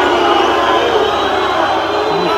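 São Paulo supporters in a packed football stadium roar and cheer after a Fluminense goal, a loud, sustained crowd din that stays steady throughout.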